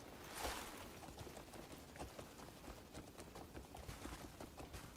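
Horse hooves clip-clopping in the Crimson Desert video game, a quiet, steady run of soft hoofbeats with a slightly stronger thump near the start, heard without talk.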